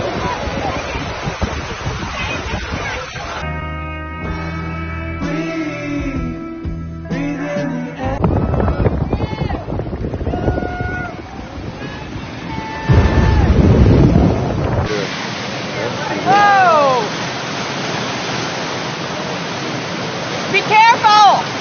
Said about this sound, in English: the magnitude of how big these waves are that are coming into California